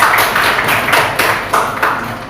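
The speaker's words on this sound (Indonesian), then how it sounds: "Ya, berikan aplaus." A small classroom group claps in a quick rhythmic pattern, about eight sharp bursts in a little over two seconds, near and fairly loud.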